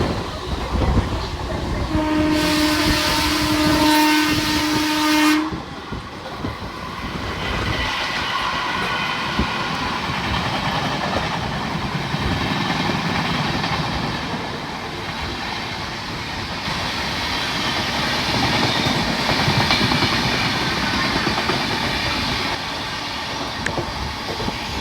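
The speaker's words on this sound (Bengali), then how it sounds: "এই পাশ দিয়ে ধেয়ে আসছে এক্সপ্রেস ট্রেন" The Rupasi Bangla Express from Santragachi to Purulia sounds a long horn, then rumbles past close by with a continuous roar and clatter of wheels and carriages.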